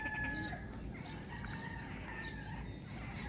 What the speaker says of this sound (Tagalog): naririnig nyo, maingay yung ibon.